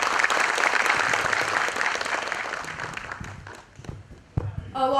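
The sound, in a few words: audience applause after a student performance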